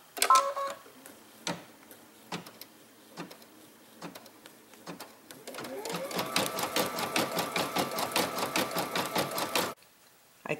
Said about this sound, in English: This step will sew the divider line.